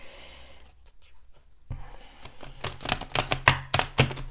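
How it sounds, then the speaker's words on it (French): Tarot cards shuffled by hand in a quiet room, a soft papery riffle that starts faintly and builds into a quick run of crisp, close flutters and snaps. "Un dernier petit brassage, sachant que je les mélange déjà bien avant."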